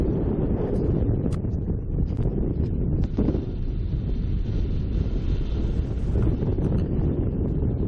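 Steady roaring wind buffets the microphone aboard a sailboat, a dense rushing noise with occasional sharp gusts and knocks out on open water.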